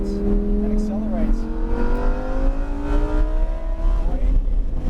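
A Lamborghini accelerates on a race track, its engine note climbing steadily through the gears with a brief dip at a shift. The engine roars loud and close from inside the car while people talk over it.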